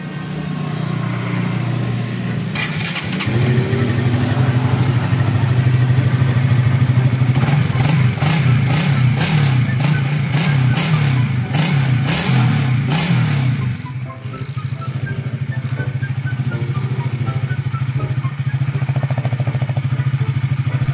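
A Honda RS150 motorcycle idles and then revs hard through an aftermarket canister exhaust, loud and close, with rapid throttle blips in the middle before settling back to a steady rumbling idle.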